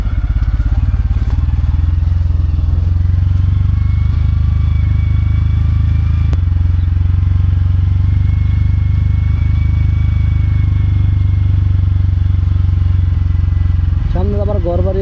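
A motorcycle rides a steep mountain road in the Bandarban hills, its engine droning low and steady throughout, close and loud, with a rider's voice speaking in short bursts near the start and end.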